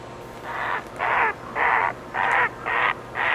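A crow caws loudly and close six times in an even, deliberate rhythm on the wooded shore near the south entrance of the Klemtu Channel, each call harsh and drawn out, with quiet gaps between.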